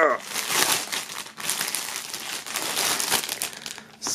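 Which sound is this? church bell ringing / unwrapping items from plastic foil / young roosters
unwrapping items from plastic foil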